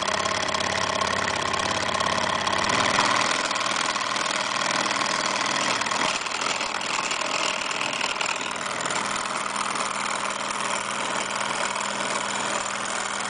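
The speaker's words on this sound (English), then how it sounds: "Let's see if we can dial up some additional revs here." A Rodini polydonut engine is revved up during a demonstration, giving a steady, loud mechanical drone with a constant hum that shifts slightly partway through, running alone without talk.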